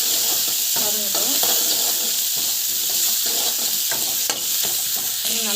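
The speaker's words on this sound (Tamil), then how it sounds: "பெருங்காயம் போட்டுட்டு நல்லா வந்து வதங்கட்டும்." Asafoetida sautéing in hot oil in a pan for a spinach dish, giving a steady close sizzle and hiss with occasional stirring scrapes throughout, no talk over it.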